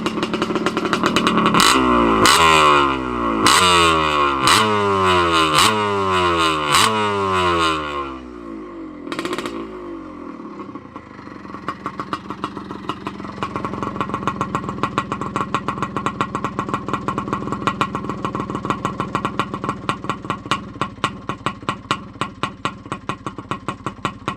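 A restored 1975 Can-Am TNT 250 motocross bike runs loud and close, first with rapid rising revs in a rhythmic sweep, then settling into a fast, crackling two-stroke idle with sharp regular pulses.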